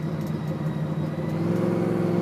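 A blown, fuel-injected 1966 Chevelle engine pulls hard at half throttle, a loud, close, deep rumbling roar that climbs steadily in pitch as the car accelerates, with no talking over it.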